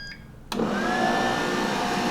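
A steady whooshing fan roar starts abruptly and keeps running loud and even as Philips Airfryer and T-fal ActiFry air fryers blow hot air, with a faint high whine.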